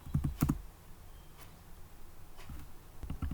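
Someone typing an SQL query on a computer keyboard produces short clusters of crisp key clicks: a quick burst at the start, isolated taps in the middle and another flurry at the end, with quiet gaps between.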